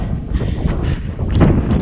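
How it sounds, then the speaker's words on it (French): Wind blowing across a microphone on a mountain trek along the GR 11 in Spain, high up inside the clouds; a steady close rumbling buffet that swells stronger toward the end, with no one speaking. "Écoutez Nelson, il y a un petit peu de vent"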